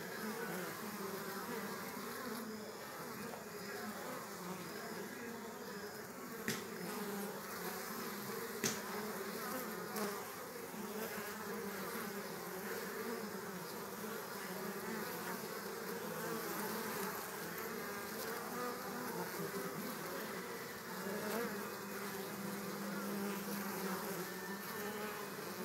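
Honeybees bringing pollen into a beehive entrance in the countryside make a steady, close, dense buzzing drone that carries on unbroken throughout, with no voices.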